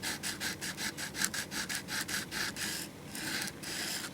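An Ontario AFSK knife point is ground with quick, even back-and-forth scraping strokes, about a dozen in a row. The strokes are faint and close, with a short pause before they resume.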